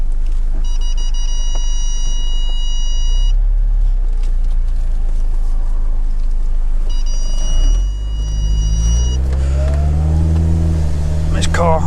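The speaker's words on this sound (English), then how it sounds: "Car has so many alarms, it's annoying." Car alarm or warning chime beeping inside a moving car on a drive from the M6 toward Castle Vale, Birmingham, two bursts of rapid repeated tones over steady engine and road noise, followed by rising engine revs.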